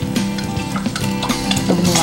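Food frying in oil in a pan, a steady close sizzle with sharp spattering pops and crackles throughout, no voices.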